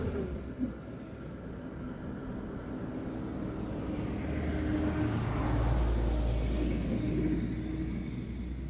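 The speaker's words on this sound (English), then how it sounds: "I don't know if you can hear me with all the traffic today" Road traffic passes beside a front-yard raised-bed garden: a steady low rumble of cars that swells as a vehicle goes by near the middle, then eases, with no talk over it.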